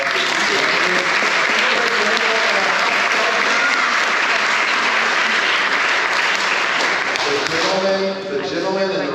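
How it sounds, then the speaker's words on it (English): Audience in a house chamber during a legislative session giving a loud, sustained round of applause that runs without a break and tapers near the end, with some talking underneath. "So let's give a round of applause for"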